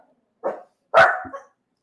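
Dogs bark in a quick burst of three sharp barks, fairly close and loud, with silence between and after.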